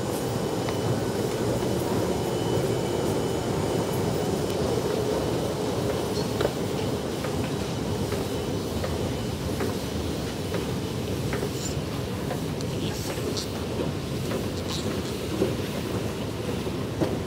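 Train at a station while passengers wait to board, a constant loud low rumble and rail roar with wind buffeting, steady throughout, with no talk.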